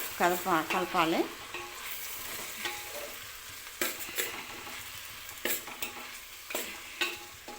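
Spices being stirred into a cabbage curry in a pan, with loud scraping strokes of a spoon at the start, then sharper metallic clinks and scrapes over a soft background sizzle.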